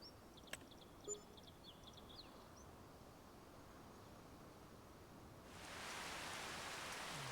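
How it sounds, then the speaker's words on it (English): Rain falls in Farming Simulator 25 on the Judith Plains, Montana map as a faint, steady hiss with a few bird chirps early on, then the downpour swells noticeably louder for the final seconds. "The rain."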